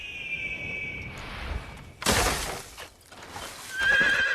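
A horse in the video game Assassin's Creed neighs loudly in a shrill, whinnying burst, with rustling and movement sounds around it and a high electronic tone near the end.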